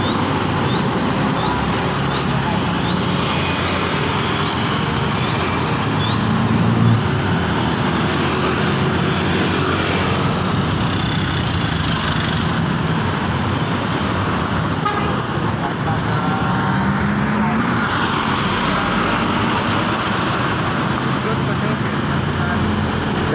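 Two Royal Class tour buses roll past on a busy road, a steady wash of traffic noise with engine rumble and a short horn toot, while someone talks over the passing vehicles.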